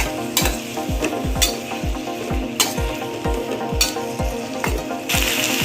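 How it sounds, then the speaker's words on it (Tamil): Capsicum, curry leaves and other chutney ingredients sauté and get stirred in a hot pan, with a steady sizzle broken by repeated scraping strokes of a spoon in a loose rhythm, close and fairly loud. "சேர்த்து நல்லா வதக்கிக்கலாம்."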